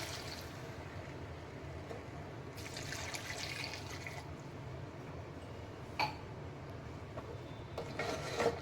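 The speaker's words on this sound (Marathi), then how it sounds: "आता जेवढी तुम्हाला ग्रेव्ही बनवायचं आहे ना तेवढं गरम पाणी टाकायचं." Hot water poured into a pan of crab curry gravy gives a steady liquid splash and rush in two bursts, followed by a brief clink and a further pour near the end.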